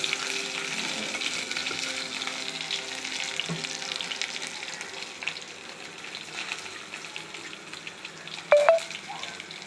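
Mustard seeds and urad dal frying in coconut oil for a vegetarian dish, a soft crackling sizzle close by with light stirring clinks and one sharper knock near the end, no voices.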